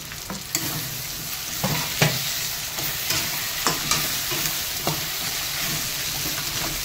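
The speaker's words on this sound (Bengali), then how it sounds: "মশলা মানে আলুটার মশলা কষানো হয়ে গেছে" Potatoes fry with black pepper, ginger, cumin and green chilli in a pan for a hilsa curry. A steady broadband sizzle runs throughout, broken by a handful of sharp scraping knocks as a spatula stirs them.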